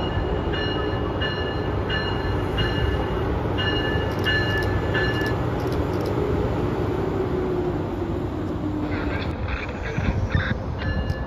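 Amtrak or MBTA passenger train rolling into the Route 128 station platform, a steady loud rumble of wheels and cars with high tonal squeals and ringing that continues throughout, shifting near the end as the train draws closer.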